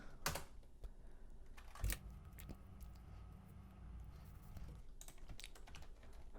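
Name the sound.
typing Linux commands on a computer keyboard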